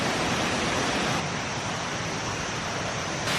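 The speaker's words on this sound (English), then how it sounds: "This waterfall is unreal." Steady, full-band roar of a waterfall so striking its water looks almost fake, a dense continuous rush up close with no other sounds.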